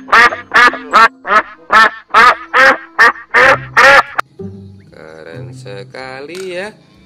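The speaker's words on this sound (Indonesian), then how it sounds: "ini ada bebek." A duck quacks loudly about ten times in a quick rhythmic series, followed by quieter chattering sounds.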